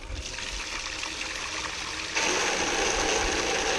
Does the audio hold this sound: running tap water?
yes